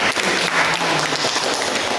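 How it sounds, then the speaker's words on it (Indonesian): Students in a classroom clap for a classmate, a steady dense patter of hands filling the room for about two seconds, fairly loud and close, with no voices over it. "Kita berikan tepuk tangan dulu."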